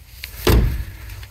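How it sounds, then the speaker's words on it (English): A car door swings open with a solid low thud and rush of air, followed by faint ticking noises from the CD player, close and loud, with no voices. "The CD player makes noises when I open the door."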